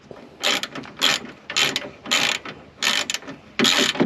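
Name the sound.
ratchet turning a 12 mm bolt on a radiator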